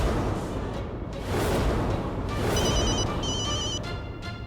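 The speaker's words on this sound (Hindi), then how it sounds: "इंस्पेक्टर राणा, आप मुझे कॉल कर रहे हैं?" An electronic telephone rings in repeated short trilling bursts over a noisy, rumbling background, moderately loud with no speech.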